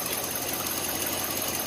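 A 5.7 Hemi engine with about 192,000 km on it idles smoothly, a steady, even, fairly quiet drone with a fine continuous ticking texture and no talking.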